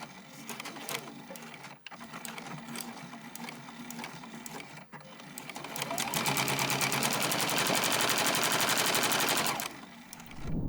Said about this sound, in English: At the machine here, I am going to sew with a 1/2 inch seam allowance.